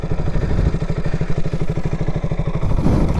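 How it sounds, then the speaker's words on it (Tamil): Single-cylinder KTM RC200 BS4 motorcycle engine running steadily, a loud, close, rapid pulsing thump with no talk. "வண்டியோட சவுண்டை பாருங்க கைஸ்."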